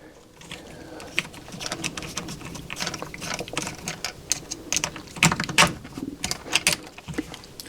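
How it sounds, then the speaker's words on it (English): A 2.5 mm hex driver turns three screws into a Prusa XL 3D printer idler arm, giving close, quiet, irregular clicks and small scraping ticks with brief pauses between turns. "Now we'll put our 3 screws back in."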